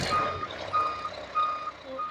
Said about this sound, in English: the concrete truck came and it is stuck